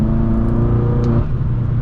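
Stage 2 tuned BMW M6 engine holding a loud, steady high-RPM drone at night, strong low harmonics that dip slightly near the end, with no talk over it.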